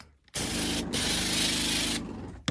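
A water spray hisses steadily and loudly while rinsing an evaporator coil in an attic, starting abruptly, briefly breaking off and resuming, then cutting off near the end, with no talking.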